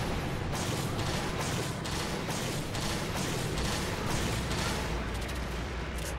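Pierce shots fired while hunting a Hallowed Jhen Mohran in Monster Hunter 3 Ultimate: a rhythmic series of loud shot bursts about every half second, riding over a constant heavy roar, with no one talking.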